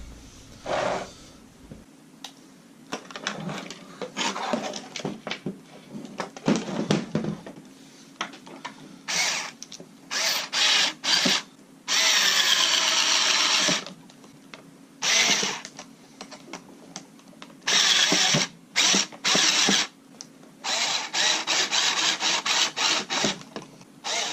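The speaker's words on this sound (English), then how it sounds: "I need to pass this part first and screw that down" Bursts of a small powered screwdriver whir in repeated short runs while a part is screwed down on a 1/9 scale A40 flying tank model, with quieter handling clicks and rubbing between the bursts.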